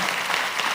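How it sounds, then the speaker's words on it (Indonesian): Church congregation applauding the praise and worship team during a Sunday service in Surabaya, a brief steady wash of many hands clapping at close range, with no talk. "boleh nggak kasih tepuk tangan buat tim Praise and Worship yang sangat luar biasa sekali"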